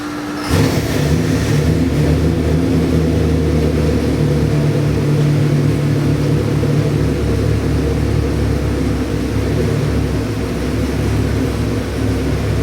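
A 625 hp 7.3L Godzilla crate V8 roars up and holds a loud, steady high idle close by after a sudden start, droning evenly throughout with a faint tonal whine.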